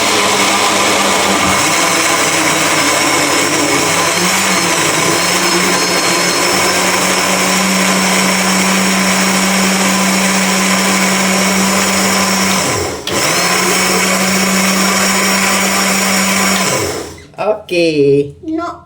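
A blender whirring at high speed as it blends turmeric herbal juice ingredients: a loud, steady motor drone that keeps up for about seventeen seconds, dips once briefly, then cuts off.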